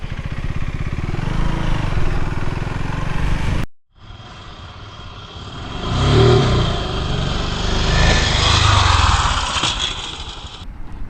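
KTM Duke 390 motorcycle with traction control off revving hard for a wheelie attempt, a loud close engine roar that cuts out briefly, then climbs again in rising and falling revs.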